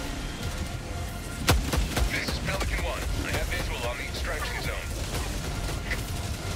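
Missile strikes in the Helldivers video game, a sharp impact followed by rumbling blasts and mechanical clatter, moderately loud under a steady din of game noise with speech over it.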